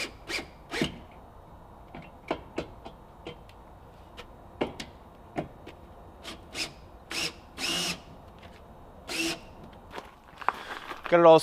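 Short bursts of a power drill driving 1.5-inch stainless sheet-metal screws into a barn door window frame, several separate runs spaced through the stretch with quiet gaps and light handling noise between, fairly close.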